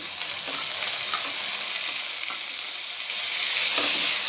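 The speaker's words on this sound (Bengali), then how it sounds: "পেঁয়াজের কালারটা চেঞ্জ হয়েছে, আমি এবার টমেটো কুচিটা দিয়ে দিলাম।" Chopped tomato goes into onions frying in a pan for Karnataka-style vegetable sambar, a loud, steady hiss of sizzling with a few soft stirring knocks underneath and no voices.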